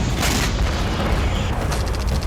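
Heavy, continuous booming rumble of explosions in a war zone, dense low-end thunder filling the whole stretch with no clear gaps, loud and close with no voices.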